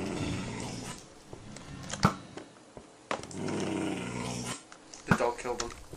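Dog growling in the Minecraft video game, several short snarling bursts mixed with game noise and people talking over them.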